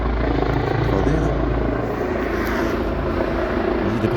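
A helicopter in a 3D animated cartoon drones steadily and loudly throughout, its rotor and engine noise filling the whole stretch.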